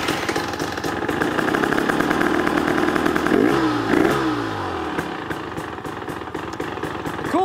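A 2024 KTM 300XC-W two-stroke dirt bike engine idles loud and close in a workshop, with a brief rev blip partway through before settling back into a steady rattly idle.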